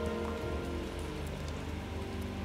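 Steady rain pours down across a scene in the video game Ender Lilies: Quietus of the Knights, a dense continuous hiss of drops on surfaces with a low rumbling undertone, no voices.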